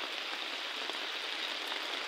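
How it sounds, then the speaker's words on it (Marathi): Heavy rain pours down steadily in a dense, even hiss of drops on surfaces, with no voices, holding constant for the whole stretch. "आणि खूप पाऊस चालू झालाय बरं का"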